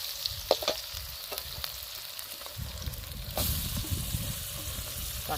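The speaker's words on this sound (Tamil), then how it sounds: "வெங்காயம் நல்லா பொன்னிறமாக வதங்கிடுச்சு இப்போ நம்ம தக்காளி போட போகிறோம்" Onions and green chillies fry in a pan with a soft continuous sizzle, occasional stirring scrapes and clicks, quiet and close, growing a little louder near the end.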